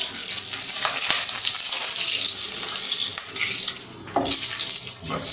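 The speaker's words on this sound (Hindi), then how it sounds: "इनको थोड़ा सा सौते करेंगे" Cinnamon pieces and bay leaves sauté in a pan with a loud, steady hiss and crackle that runs almost unbroken, with a few clinks over the top.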